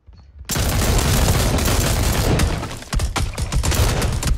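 Dense gunfire in the battle royale game PUBG erupts after a brief pause into a sustained loud barrage of rapid shots, with a short break near the end before more bursts follow.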